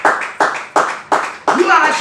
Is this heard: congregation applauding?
yes